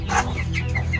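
Bantam chickens give a short burst of nearby clucking, a few quick throaty calls over a low background rumble.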